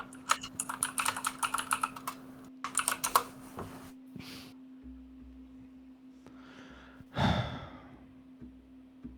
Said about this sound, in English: The typing is so loud.